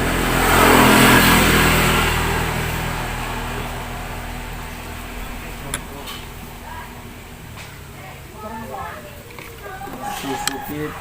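A Suzuki Titan motorcycle engine revs at half throttle, loud and droning at first and then easing off into a steadier idle. Someone talks over the engine.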